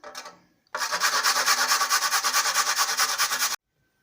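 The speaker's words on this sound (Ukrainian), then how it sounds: "Потру туди часник, ті два зубчики." Garlic cloves rubbed on a grater over a bowl with an egg, a close, steady rapid rasping scrape lasting about three seconds, preceded by a brief word and ending abruptly.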